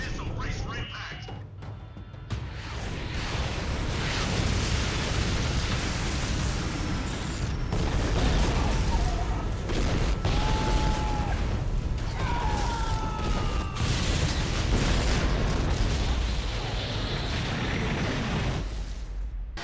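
Missile explosions rumble in the Turok video game, a dense, loud wall of booming blasts and roaring noise that runs almost unbroken, with a few sharper bursts and faint whistling tones on top.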